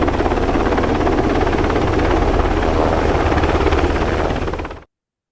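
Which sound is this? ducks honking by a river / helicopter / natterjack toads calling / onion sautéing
helicopter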